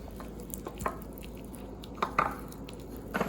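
Plain all-purpose flour being stirred into melted butter for lachha paratha dough, giving soft, intermittent scrapes and light clicks of a spoon against the bowl in a quiet kitchen.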